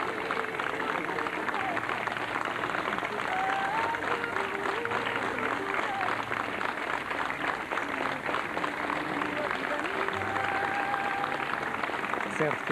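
Crowd outside Amália Rodrigues's home applauding at her funeral, a steady, sustained wash of many hands clapping, fairly distant and continuous, with faint voices mixed in.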